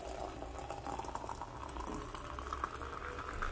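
Water heating to a boil for Moroccan mint tea, a steady low rumbling bubble and hiss that holds close and even throughout with no talk over it.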